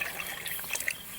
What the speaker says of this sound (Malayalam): തേങ്ങാപ്പാൽ ഫുൾ അങ്ങോട്ട് ഒഴിച്ച് കൊടുക്കുക